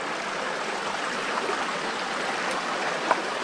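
A river flows through a canyon below a hot springs pool, giving a steady, even rushing of water with no voices, fairly close and constant throughout.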